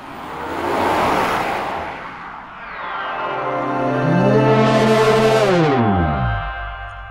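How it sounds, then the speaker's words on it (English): A vehicle whooshes past with a rising then falling tone, its engine pitch sweeping down as it goes by, heavily processed and echoing. "A car passing by quickly."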